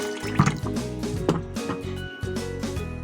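Water poured over rice in a bowl for overnight soaking, a close liquid splash and fill with a few drips, brief and without speech.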